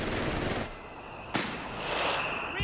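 Bursts of MG-42 machine gun fire in Company of Heroes 3 crackle in rapid rattles, with one sharp loud report midway amid the noisy battle din.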